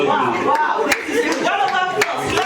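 Audience at a tech debate session clapping in a brief burst of applause, with a few sharp claps standing out over a voice speaking.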